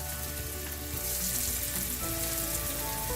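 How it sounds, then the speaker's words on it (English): Breaded salmon pieces frying in a pan with a little regular cooking oil, a steady close sizzle with faint crackle running the whole time, no voices. "one piece at a time onto a pan with a little oil, just any regular cooking oil"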